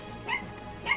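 A dog in Minecraft 1.14.4 gives two short yipping barks in quick succession, close and clear, with a slight whimpering tone.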